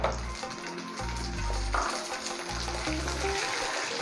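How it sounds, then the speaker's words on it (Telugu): Coriander seeds and small shallots fry in a pan, a steady close sizzle with a low rumbling undertone and occasional stirring scrapes, no talking. "ఇప్పుడు ఏం ఫ్రై చేస్తున్నామో ఇది గ్రైండింగ్ కోసము ఫ్రై చేసుకుంటున్నాము"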